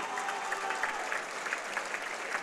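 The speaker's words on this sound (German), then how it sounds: "bitte noch einmal einen großen Applaus an Aria und Dachi" Applause from a fight-event crowd honoring two kickboxers after their bout, a steady wash of clapping from many hands, moderately distant and continuous.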